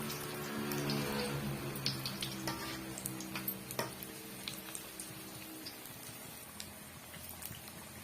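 Green chilli bajji deep-frying in hot oil over medium flame, a quiet continuous crackling sizzle with scattered sharp pops and bubbles, no voices.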